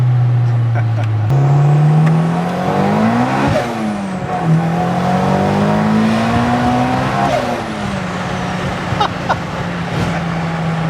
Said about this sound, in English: the VTEC mixed with the turbo is not normal